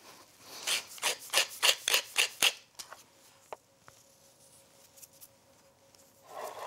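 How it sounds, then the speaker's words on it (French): Beef bites are mixed with a pepper and onion compote, making a quick series of close, wet, scraping stirs, followed by quieter scattered clicks and taps from the utensil. "On mélange intimement"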